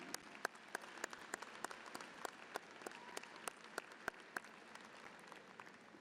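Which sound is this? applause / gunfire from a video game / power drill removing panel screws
applause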